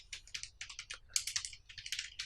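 Rapid, uneven keystrokes on a computer keyboard as a name is typed, close and crisp clicks in short bursts with no talk.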